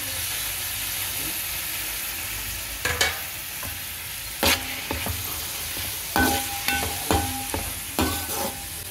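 Finely chopped tomato pieces frying in a pan for tomato rice, a steady hissing sizzle broken by several close bursts of stirring and scraping in the second half, with no talk.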